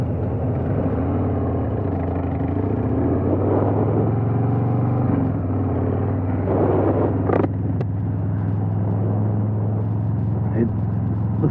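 A Harley-Davidson Road King Special motorcycle engine rumbles low and steady while riding, with some wind noise, as someone talks over it throughout.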